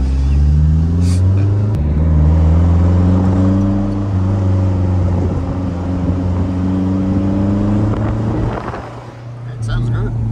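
A Maserati Shamal's engine runs close by with a deep, steady idle and loud, even rumble, the pitch lifting slightly in a brief rev, while people talk over it.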